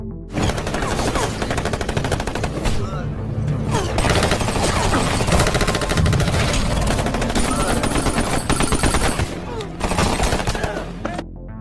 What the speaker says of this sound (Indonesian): Jack tiba di markas Nicole dan beradu tembakan dengan pasukan yang diutus oleh Murphy.